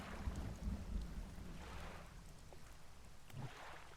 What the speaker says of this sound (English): We got a storm brewing.